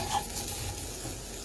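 Sweet potatoes sizzle in a pan while being stirred, a close, continuous frying hiss with soft scraping and shuffling of the pieces.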